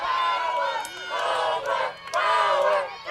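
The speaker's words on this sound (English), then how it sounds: "the Fisherman crowd getting loud here behind their stud pitcher, Ray." Home crowd at a high school softball game between the Astoria Fishermen and Scappoose Indians roars loudly behind its pitcher, a sustained wave of cheering and shouting that dips briefly near the middle before swelling again.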